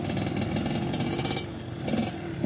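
The engine of a mountain motorcycle taxi in Indonesia rumbles close and steady. It swells slightly near the end, with no one talking over it.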